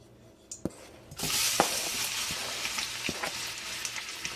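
Onion fries in about half a cup of hot oil in a frying pan, sizzling and crackling steadily after a quiet start, with a few sharp pops and stirring clinks scattered through.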